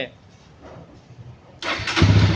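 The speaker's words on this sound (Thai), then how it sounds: "อ่าดับเครื่องครับเครื่องยนต์ติด" A Phantom 200 motorcycle's engine is started during electrical repair work. Quiet cranking and shop noise give way to the engine catching and revving up loudly near the end, with people talking nearby.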